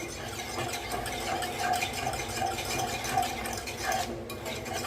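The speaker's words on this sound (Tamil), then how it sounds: "ஒரு விஸ்க்கு வச்சுட்டு நல்லா கலந்து கொடுங்க" A whisk scrapes and swishes rhythmically through thick oats halwa batter cooking in a pan, a steady close-up stirring sound with faint squeaks.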